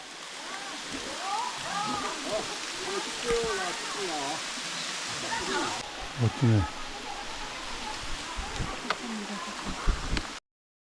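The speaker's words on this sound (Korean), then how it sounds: "폭포다 폭포 와" Waterfall on a forest trail, heard as a steady rushing wash of water in the background while people talk and call out excitedly over it.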